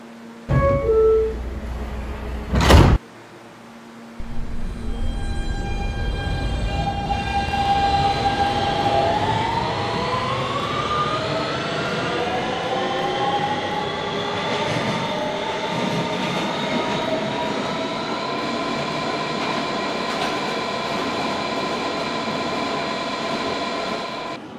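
A Kawasaki R160B subway train with Siemens motors pulls away from a station in a Roblox game, with brief tones and a thump at first, then a steady rising electric motor whine layered over rumbling wheels.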